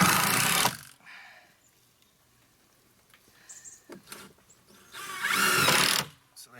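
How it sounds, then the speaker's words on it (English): Power drill driving screws at a sharp angle into the raised wooden sides of a trailer, two short whirring bursts separated by a quiet stretch with light handling noises, close by. "Putting the screws in at a sharp angle here."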